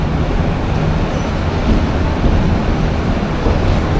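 The Agnibina Express, running from Mymensingh to Dhaka, rolls around a last curve into Kamalapur railway station at night with a steady, heavy rumble of wheels and carriages throughout.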